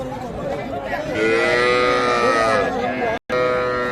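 Young bull calves moo loudly at close range, a drawn-out bellow over a busy background of voices and chatter at the Raniganj cattle market.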